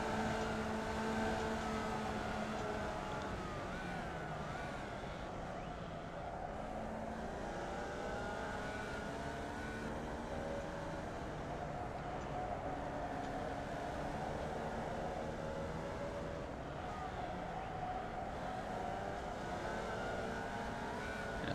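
Formula Vee race car engines in iRacing at Winton, a continuous droning engine note with pitch sweeping up and down through gear changes, several cars blending together, no talking.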